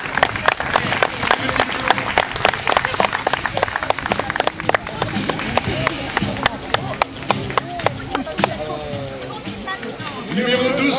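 An audience claps through a parade of champions at a French national dog breeding show, with dense sustained applause from a crowd and a voice speaking over it.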